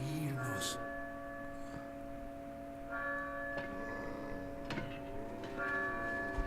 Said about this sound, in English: Oh, and there it is. Church bells.